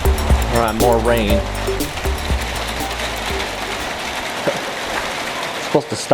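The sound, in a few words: rain falling outdoors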